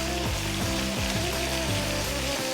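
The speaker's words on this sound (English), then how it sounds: "We're now going to drop in that onion." Chopped red onion hits a hot pan for a chicken curry and sizzles steadily and close, with a dense frying hiss over faint tonal background sounds.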